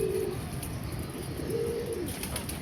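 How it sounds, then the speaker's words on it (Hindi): Pigeons coo softly in a loft, low throaty calls rising twice over a steady breezy background with faint chirps, moderately close. "काफ़ी कबूतर नए जो हाइट से होके आ रहे हैं।"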